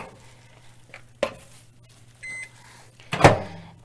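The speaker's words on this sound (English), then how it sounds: "we're going to put these in the microwave" A kitchen microwave oven running with a low steady hum, punctuated by a couple of clicks and a short beep near the end, no talking.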